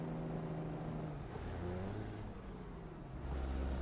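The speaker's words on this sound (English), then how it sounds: "You guys hear our truck is struggling to get into the next gear." A heavy truck in American Truck Simulator strains through a gear change, the engine tone holding, dropping, then climbing again, with a deep low rumble building toward the end and no talking.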